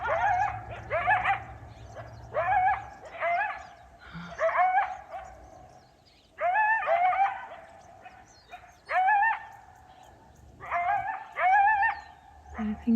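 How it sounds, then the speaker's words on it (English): Wild canines outdoors howl and yip in repeated wavering bursts, several calls overlapping and rising in pitch, fairly close, with short pauses between groups and no talking. "I think this howling is all about me."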